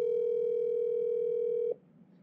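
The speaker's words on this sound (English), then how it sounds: "Then it's gonna start ringing like this." A WhatsApp video call rings on an iPhone as a single steady electronic tone that holds for under two seconds and then cuts off, leaving faint background hum.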